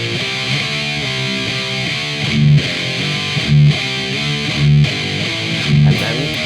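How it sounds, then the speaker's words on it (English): Heavily distorted electric guitar playing a riff, a chugging low line punctuated every second or so by louder accented slides down the neck; loud, close and continuous, with no talking. "in the context of playing the entire round, would sound like this."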